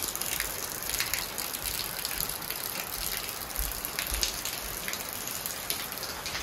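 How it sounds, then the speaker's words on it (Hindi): Steady rain pours down without a break in Mechuka, Arunachal Pradesh, a dense hiss of drops drumming on surfaces, close and continuous throughout. "लगातार बारिश हो रही है"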